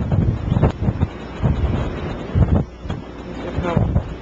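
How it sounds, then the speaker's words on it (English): Wind gusting across open ground in an Iowa blizzard, blowing snow in a steady roar with heavy buffeting on the microphone and a voice talking intermittently over it. "I'll have to shovel again because the snow is still blowing"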